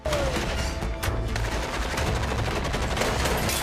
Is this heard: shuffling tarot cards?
no